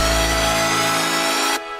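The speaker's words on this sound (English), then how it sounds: "And also, I have this this filtering effect that happens." A high-pass filter sweeps over the master bus of an electronic track, draining away the deep low end while bright, sustained synth tones carry on, then the sound thins abruptly just before the end.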